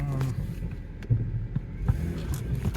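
A 2010 Mercedes with a slipping transmission is shifted into gear, giving a low idling rumble with a few soft thumps and shifts in the engine note, heard close inside the car.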